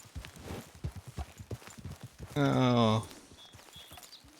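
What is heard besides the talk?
horses clip-clopping in video game Red Dead Redemption 2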